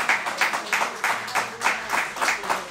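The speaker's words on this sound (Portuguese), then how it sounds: "Dê uma salva de palmas ao Senhor." Rhythmic applause from a church congregation during a worship service, with claps coming in steady, repeated bursts roughly every third of a second. The clapping is moderately loud and continues without any talking over it.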